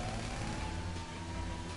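A police siren in GTA V Online wails continuously over a dense, loud background rumble, its steady tone holding through the whole short stretch.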